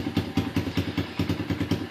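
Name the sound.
Apollo ADR 125 dirt bike engine idling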